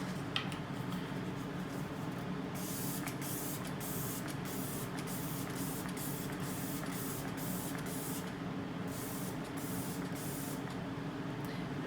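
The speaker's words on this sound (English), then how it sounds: "It may seem like I sprayed a lot" Makeup setting spray hisses onto a face in a quick series of short bursts, each a sharp, breathy spritz, repeated in a loose rhythm close to the mic with a low room hum beneath.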